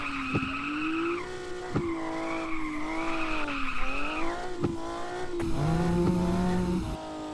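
A Mazda RX-7 drifting on a racing video game's drift map: a loud, continuous engine whine that rises and falls with revs, steady tire squeal throughout, and a few sharp shift thumps, with no talking.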